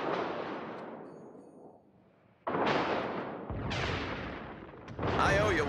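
Naval artillery fire in the World of Warships video game, with several loud cannon blasts that each roll off into a long fading rumble, followed by a sharp crackling salvo at the end.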